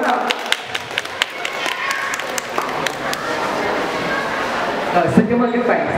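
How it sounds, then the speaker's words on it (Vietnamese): An audience at a scholarship ceremony in the Lotte Cinema Cantavil claps with loud, rapid, irregular hand claps that swell briefly near the end, with a voice mixed in among them. "Chúng ta hãy cho một tràng pháo tay thật lớn ạ"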